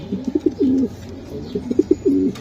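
Racing pigeons coo close by in a loft, two rounds of soft throaty rolling coos with brief pauses, clear and alone.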